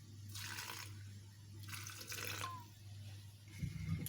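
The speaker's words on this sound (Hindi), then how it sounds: "और इसमें थोड़ा सा पानी डाल रही हूँ।" Water is poured from a tap or jug into a grinder jar for green chutney in a home kitchen, heard as two short, moderately quiet splashing bursts with a steady hum underneath.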